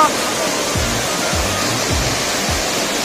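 Narhara waterfall heard up close, a loud, dense, continuous roar of rushing water with no break, with a few low thumps underneath.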